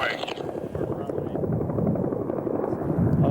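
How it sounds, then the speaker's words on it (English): A helicopter's rotor thumps steadily and grows slightly louder as it approaches over sagebrush during a mule deer fawn capture, a close, rumbling chop with talk faintly mixed in. "The sound of the rapidly approaching helicopter sends the crew dashing for cover of sagebrush."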